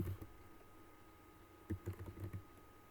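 Keystrokes on a computer keyboard while editing text in Emacs: a faint early tap, then a quick cluster of six or so distinct clicks near the end, close and fairly quiet against low room noise.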